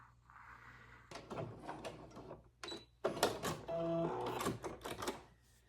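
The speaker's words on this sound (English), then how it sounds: "And I'm going to sew 1/4 inch seam allowance just around the curve." A sewing machine stitches a quarter-inch seam around the curved ears of a fabric keepsake teddy bear. It whirs in short and longer bursts with clicking pauses between runs and a faint hum underneath.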